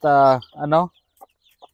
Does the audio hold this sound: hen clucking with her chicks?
yes